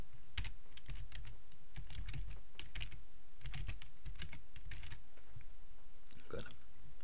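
Close typing on a computer keyboard, irregular bursts of crisp key clicks with short pauses, a quick flurry near the end, no talking.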